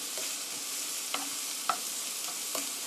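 Onions sautéing in a pan until golden for a fusilli cream sauce, a steady sizzling hiss broken by occasional scraping stirs, close and continuous with no talk.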